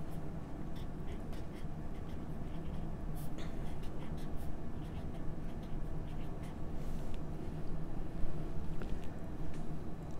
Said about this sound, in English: take your favorite crayon or marker, either one. First, let's write our name.